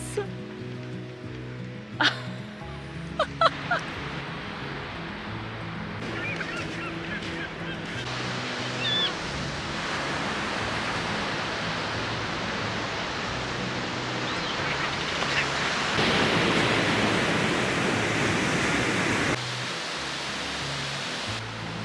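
Waves wash steadily onto a beach on Vancouver Island in a broad, continuous roar that swells a little louder later, with a few honking bird calls early on.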